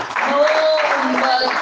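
A church congregation claps loudly in praise of Jesus, a brief dense burst of hand clapping under a voice speaking over it.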